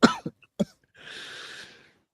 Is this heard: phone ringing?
no